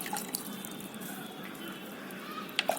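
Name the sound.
pouring water onto seedling tray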